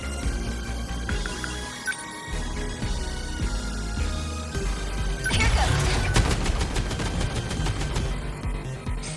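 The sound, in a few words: machine guns firing in the video game 13 Sentinels: Aegis Rim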